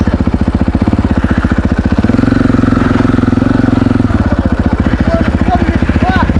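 KTM 500 EXC-F dirt bike engine running close by with a fast, loud, pulsing single-cylinder beat that rises briefly in a rev, then settles back to a throbbing idle.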